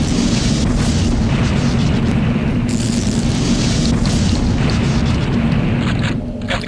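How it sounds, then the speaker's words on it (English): A Tesla cannon, an extremely powerful weapon in the Transfusion shooter game, fires as one loud, continuous, crackling electric barrage that holds steady throughout with no speech. "Perhaps the most powerful weapon in the entire game,"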